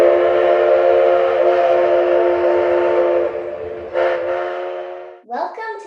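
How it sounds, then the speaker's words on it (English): A sustained, loud Canadian Pacific Railway train horn sounds for several seconds, steady and close, then breaks off into a few short, fading bursts near the end. "That's it! The train!"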